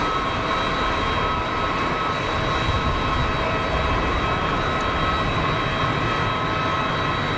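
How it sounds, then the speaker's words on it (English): Airbus A320neo-family jet rolling at Geneva Airport, a loud, steady engine roar with a constant tonal whine throughout, no talk. "Meanwhile, the Neo is rolling."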